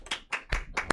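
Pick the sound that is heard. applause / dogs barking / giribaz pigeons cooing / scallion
applause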